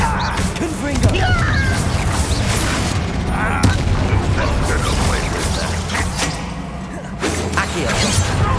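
Fiery Confringo spell blasts in the Hogwarts Legacy video game: loud booming impacts and crackling bursts over a dense battle din with mechanical clanks, while a voice speaks over it.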